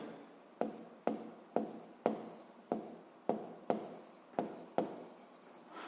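A pen writing on paper during a Ukrainian physics lesson, heard as a series of about nine quick, close scratchy strokes at a steady rhythm, each sharp at the start and then fading. No one speaks.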